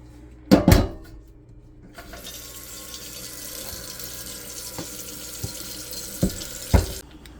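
Tap water runs steadily over a new wok being washed before seasoning, a continuous hiss with a few sharp metallic knocks and clunks of the pan near the start and end.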